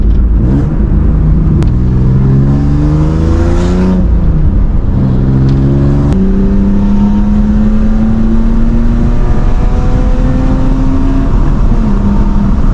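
Car with a Drift Shop exhaust line revving hard, loud and close, engine pitch climbing and dropping in repeated rising sweeps before holding a long, steady high drone.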